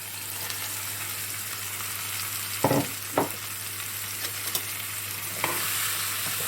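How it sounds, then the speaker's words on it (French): Onion frying in a pan for a homemade tajine, giving a steady close sizzle throughout with a few brief knocks and scrapes of stirring. "je vais ajouter mon oignon. Donc là, je vais faire cuire un peu."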